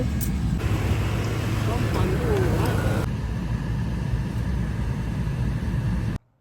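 A small six-seat minibus on Lambai Island, Taiwan, rolls along with a steady engine and road drone that runs unbroken until it cuts off abruptly near the end.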